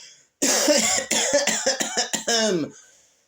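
A person coughs in a harsh, rapid burst of about half a dozen hacks close to the microphone, followed by a rougher, rattling cough at the end, with no speech.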